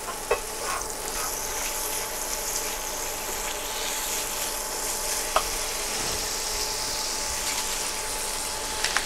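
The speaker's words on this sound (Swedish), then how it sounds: "Kycklingen har nu fräst runt ett par minuter." Chicken pieces fry in fat in a pan with a loud, steady sizzle and hiss that runs throughout, with a few faint scrapes and clicks as the pan is stirred.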